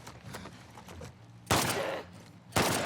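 Pistol gunfire in The Last of Us Part II remastered on PS5: two loud, close shots with reverberant tails, spaced about a second apart, over faint game ambience.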